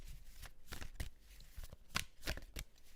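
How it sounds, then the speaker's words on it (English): A deck of playing cards being riffled and shuffled several times in quick bursts, close up and fairly quiet, with no talking. "I am going to shuffle the cards."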